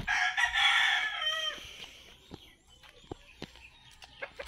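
A five-month-old young rooster gives one strained, wavering crow up close, followed by soft scattered clucks and small ticking sounds in a quiet outdoor setting.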